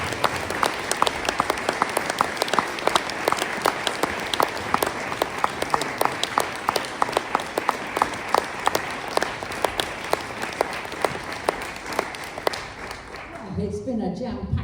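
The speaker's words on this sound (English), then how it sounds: "Round of applause, please." An audience applauds a brass quintet at a school music festival with steady, full clapping that carries on for about thirteen seconds before quickly dying away.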